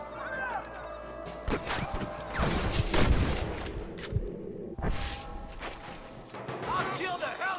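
Gunfire crackles in Red Dead Redemption during a shootout around a marshal, several sharp shots and bursts at varied distances mixed with a crash, while voices speak in between.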